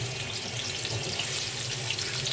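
Pieces of rohu fish fry in oil in a pan, giving a steady, even hiss of sizzling that runs on without a break at a soft, moderate level.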